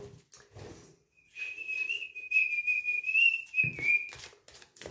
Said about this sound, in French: je vais lui siffler, normalement il devrait répondre